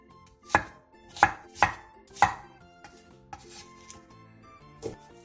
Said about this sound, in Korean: 감자 2개와 양파 1개를 먹기 좋은 크기로 큼직하게 잘라주세요.